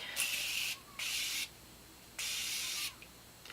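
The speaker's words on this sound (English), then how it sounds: "I like the setting spray, y'all, because it's like a continuous mist" Makeup setting spray mists from a continuous-spray bottle in three close hissing bursts, each about half a second or longer, with quiet gaps between them.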